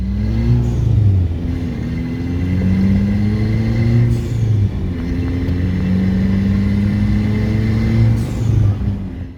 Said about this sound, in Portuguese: No Etios, o motor faz um ronquinho discreto.